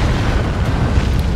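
A Manticore rocket strike explodes in a Dawn of War 2 3v3 match, a loud, dense, rumbling blast that fills the whole moment with heavy low-end roar.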